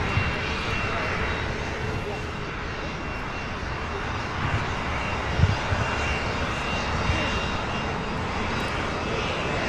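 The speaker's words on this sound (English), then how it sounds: "This is a Cessna Citation Excel." A Cessna Citation Excel business jet pushes back at Los Angeles International Airport, giving a steady, fairly quiet engine whine and rumble beneath broad airport noise, with a brief louder bump midway and speech heard faintly.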